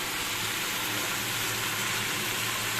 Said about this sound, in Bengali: এই যে আলুগুলো আমি এর মধ্যে অ্যাড করে দিলাম